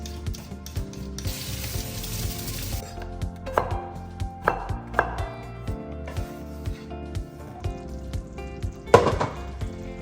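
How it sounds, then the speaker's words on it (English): A knife chops peeled Yukon Gold potatoes into pieces on a cutting board, with a series of sharp, close, irregular knocks spread across the clip and a stray rattling sound early on. "we're just gonna peel it and then cut them into 1-inch pieces"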